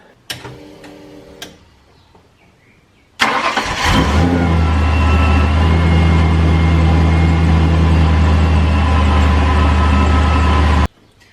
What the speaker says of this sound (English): Now you can start the car up to make sure everything's running fine.